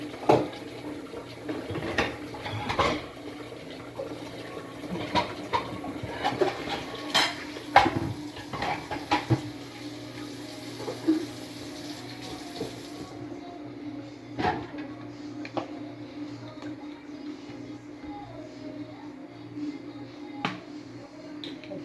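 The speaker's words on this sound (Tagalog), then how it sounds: "ako ay manghuhugas na naman ng plato" Plates and dishes clatter in a sink as they are washed, with scattered clinks of cutlery and a steady trickle of running water beneath, the knocks irregular and close, loudest early on and settling into quieter rinsing.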